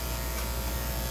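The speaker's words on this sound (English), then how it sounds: "Yeah, it's the noise of the clippers." Electric dog grooming clippers buzzing steadily while a Shih Tzu is groomed, a constant thin mechanical hum, quiet and close, with no voices over it.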